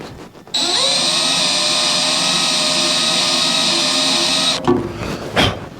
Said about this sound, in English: And all we're going to do is just put a little spot drill on it.